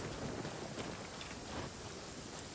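Heavy video game rainstorm in Moonchase Festival, a dense even hiss of pouring rain with faint rumbling underneath, steady and fairly quiet with no voices.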